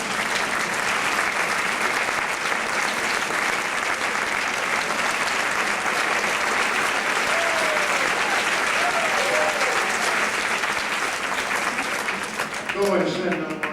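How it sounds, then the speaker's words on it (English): A large keynote audience at a 1993 NSPI conference breaks into a sustained round of applause, dense and steady throughout, with a few voices calling out over the clapping near the end. "let's give Susan a round of applause"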